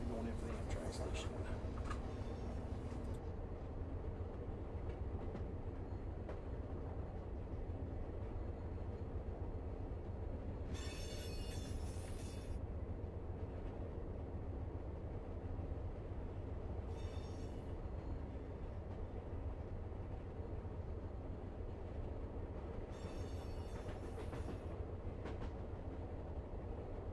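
An Amtrak passenger train in the Run 8 train simulator game rolls toward a Barstow station, giving a steady, loud rumble of wheels and engine throughout, with brief high hissing or squealing bursts recurring at intervals.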